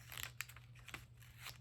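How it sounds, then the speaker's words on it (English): Scissors cut through paper for a collage weekly planner, giving a few faint, close crisp snips and crinkles. "let's just cut right here"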